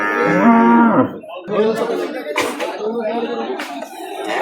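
A cow gives a long, loud moo up close at a cattle market in Gazipur, Bangladesh, followed by people chattering and moving nearby in a busy outdoor setting.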